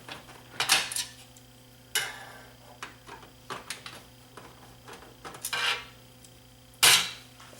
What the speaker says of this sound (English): So I'm going to release these two screws here